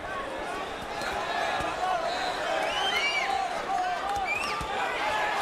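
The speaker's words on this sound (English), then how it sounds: "The crowd growing impatient." A boxing arena crowd murmurs and calls out restlessly, a dense hum of voices with occasional whistles and shouts rising from the stands, heard under a commentator's talk.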